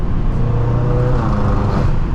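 A tuned 800-horsepower BMW M6 drives through New York City streets on the FDR, its engine humming loud and close in a steady low drone with slight swells.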